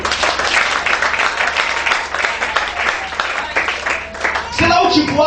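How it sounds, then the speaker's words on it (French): A church congregation breaks into loud, sustained applause, many hands clapping close and dense for several seconds before a voice cuts in near the end. "Acclamez le très fort."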